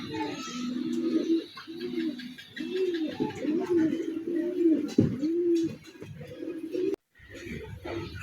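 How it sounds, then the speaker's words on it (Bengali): A Chinese teddy pigeon coos close by in repeated soft, throaty rolling phrases, one after another with brief pauses, and a short break near the end. "এখন আপনাদের দেখাচ্ছি একটা চীনা টেডি কবুতর"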